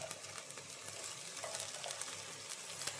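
Chopped cabbage fries with onions in a pan, a soft, even sizzle with faint stirring scrapes, quiet and close, with no talking.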